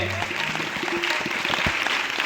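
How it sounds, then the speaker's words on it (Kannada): An audience claps at an event honouring guests in a temple setting, a short burst of brisk, fairly close applause mixed with a little crowd murmur. "ಜೋರಾದ ಚಪ್ಪಾಳೆ ಮತ್ತೊಮ್ಮೆ"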